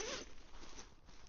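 A zip on a Onewind camping gear storage bag, the kind hung at the side of a tent or hammock for pegs and equipment, gives one close, steady ripping run that lasts just over a second, with nobody talking.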